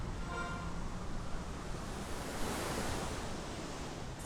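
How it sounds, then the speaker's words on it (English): Ocean waves in the Final Fantasy XI video game ZenithXI, a steady broad wash of surf that swells gently near the middle, even and fairly soft throughout. "The waves coming in."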